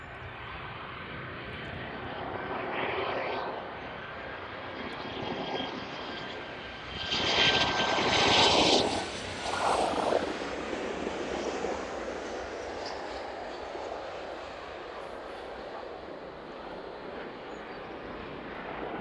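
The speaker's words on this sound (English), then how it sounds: "Nice smooth touchdown from the Jet 2 there. A bit of noise as those reverse thrusters are deployed." A Jet2 airliner touching down at East Midlands Airport with reverse thrusters deployed: a steady, fairly distant jet roar that swells noticeably for a few seconds mid-way, then settles back to a constant rumble, with no speech.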